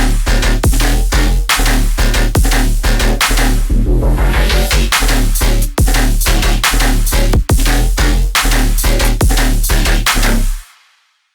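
A stompy metallic riddim bass loop built from Faceplant bass patches and a Serum sub, with loud, heavy, rhythmic wobbling hits over a pounding beat that runs steadily and then cuts off abruptly near the end.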